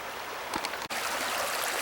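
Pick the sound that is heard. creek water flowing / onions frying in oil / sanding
creek water flowing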